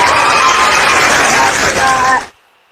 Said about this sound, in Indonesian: Tepuk tangan buat Lina